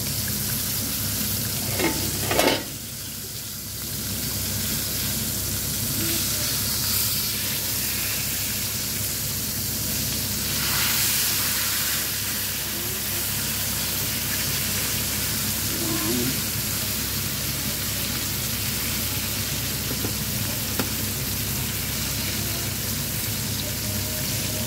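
Fish fries in a pan with a dense, steady sizzle that runs throughout, broken by a clattering jolt early on, likely as the fish is flipped, and a few faint pops.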